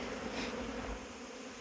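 Honeybees hum densely around the hives in an apiary in early April, a steady close buzzing swarm without speech.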